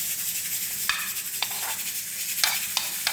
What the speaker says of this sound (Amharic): ካሮቴን ደግሞ እዚህ በዘይት ነው የምጠብሰው ለብቻ ማለት ነው።